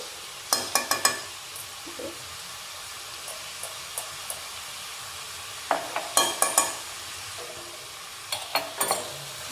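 A cucumber alkali dish with a pinch of baking soda is stirred in a pot, giving a soft background simmer broken by bursts of scraping and clinking spoon strokes.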